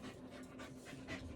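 A dog pants steadily and close by, quick soft breaths repeating over a low constant hum.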